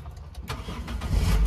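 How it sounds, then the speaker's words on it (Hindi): A Toyota with a throttle-range fault (code P2118) cranks and catches, rising into a low, rumbling engine that grows louder and steadier, close by with no talk. "गाड़ी स्टार्ट करो"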